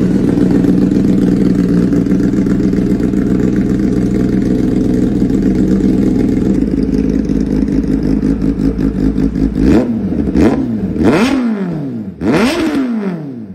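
A loud Kawasaki ZX-10R sport motorcycle with an Arrow full exhaust system idles with a deep, throaty rumble, then revs sharply three times, each blip rising and falling in pitch.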